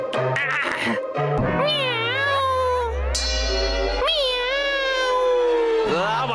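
A person's voice imitates a cat, giving a few drawn-out, wavering meows in a comedy sketch, loud and close, with a brief spoken bit at the start.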